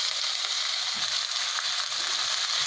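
Garlic and green chilli fry in two spoons of hot oil in a frying pan, giving a steady, fairly quiet hiss and crackle with faint stirring and no talk.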